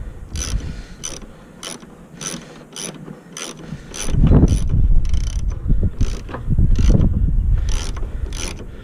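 Ratchet turning a 10mm bolt on the headlight fixture of a 2008 Pontiac G6, a steady run of sharp, close clicks with some louder rustling and handling noise partway through, no talk.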